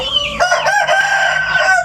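A farm rooster crows once, a loud, close, drawn-out call with a rising then wavering pitch that holds for nearly two seconds, with no other voices.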